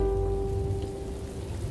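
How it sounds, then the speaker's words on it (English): Rain falling steadily on a surface, a soft continuous patter under a low background hum, without any voices. "It's going to rain!"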